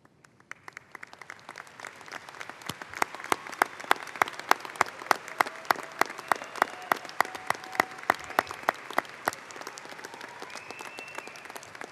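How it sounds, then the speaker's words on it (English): An audience at a high school graduation ceremony applauds, with sharp, distinct claps standing out near the front of a broader, steady ovation that swells and then thins slightly. "parents, y'all should be clapping really loud"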